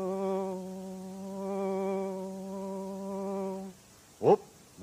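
A comedy puppet performer imitates a buzzing fly or insect with his voice. The hum holds steady for several seconds, then a short sharp sound follows.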